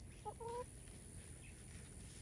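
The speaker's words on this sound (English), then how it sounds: "these chickens trying to eat this stuff before I get it planted" Chickens cluck a few short, close calls while pecking at seeds being set on top of soil in garden grow bags, followed by quiet outdoor background.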